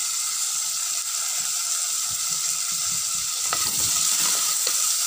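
Curry leaves sautéing in hot oil for Parai fish kulambu, a steady close sizzle and crackle with soft stirring scrapes partway through and no voices.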